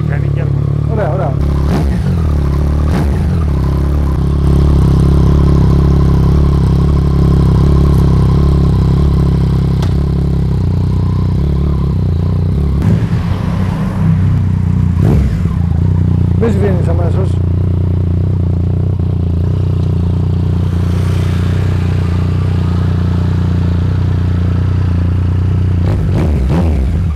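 A motorcycle engine idles with a deep steady rumble close by, then revs up in several throttle bursts before settling back, while people talk nearby over the noise.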